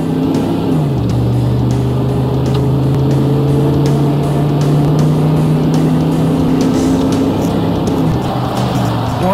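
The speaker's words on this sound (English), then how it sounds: "Now try some upshifts at 3/4 throttle to see how the shifts get firmer with throttle." A car with a 4L80E automatic transmission pulls at three-quarter throttle, its loud engine drone climbing and then dropping sharply in pitch at each firm upshift, heard from inside the vehicle.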